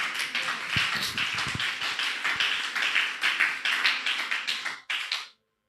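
Church congregation clapping, a close loud patter of many hands that swells and pulses before stopping abruptly, leaving silence.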